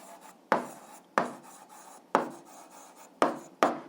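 Pen scratching on paper in short strokes, six distinct rasping bursts at irregular intervals, close and quiet with silence between them.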